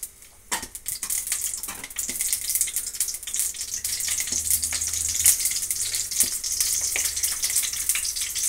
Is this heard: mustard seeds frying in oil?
yes